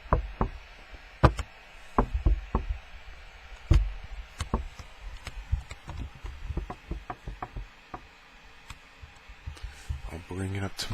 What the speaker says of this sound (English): Sometimes I take my plastic packaging and I just bring it up to my ear and go